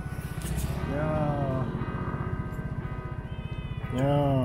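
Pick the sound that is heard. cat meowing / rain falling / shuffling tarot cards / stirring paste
cat meowing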